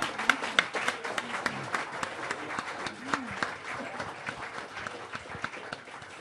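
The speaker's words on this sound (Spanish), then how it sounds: "Dale un aplauso fuerte al Señor." A church congregation claps in a loose, uneven rhythm of sharp individual hand claps that rises and thins out over several seconds, moderately loud and close, without the density of a large crowd.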